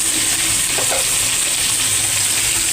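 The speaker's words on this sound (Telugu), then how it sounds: "ఇప్పుడు టమాటో వేసేద్దాం." Tomato pieces dropped into hot oil for a potato and brinjal curry, giving a loud, steady, hissing sizzle that holds evenly throughout, close up with no voices.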